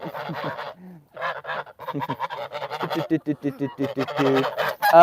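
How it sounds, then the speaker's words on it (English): Geese honk loudly and continuously in a chicken coop during corn feeding, a dense, close, overlapping chorus of harsh calls with a person talking intermittently over the din. "it's so hard to talk with these geese"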